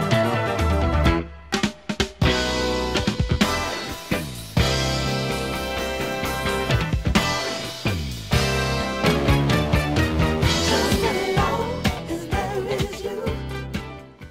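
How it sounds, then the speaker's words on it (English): A funk instrumental jam, recorded at age 19: a full band groove with bass, drums and keyboards, playing dense and steady at full volume with no speech. "And you listen to that instrumental jam"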